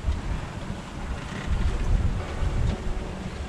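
Wind roars steadily around a sailboat at sea, a broad rushing noise with gusty swells and low buffeting on the microphone, with water wash beneath; no talking.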